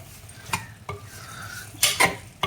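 Washed prawns stirred in a cooking pan for a prawn curry, a few distinct scraping and clinking strokes of a spoon against the pan over a soft sizzle, close and irregular.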